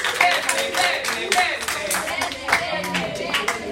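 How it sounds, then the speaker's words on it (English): Classroom applause for a student named Lane, a quick patter of claps from a small group of kids mixed with talking voices, close and uneven over a few seconds. "Everyone give Lane a round of applause."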